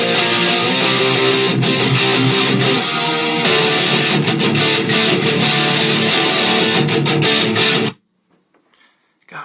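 Heavy, aggressive distorted rhythm guitar tracks play back from a recording, dense and loud with chugging rhythmic stops, then cut off abruptly into near silence with a few faint noises.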